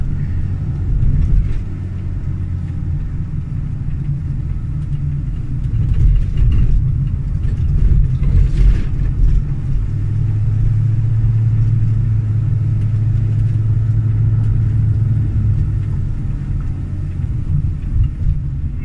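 Steady low rumble of a car rolling downhill under engine braking, the motor droning evenly throughout with a brief rise in the middle, close and fairly loud with no talk.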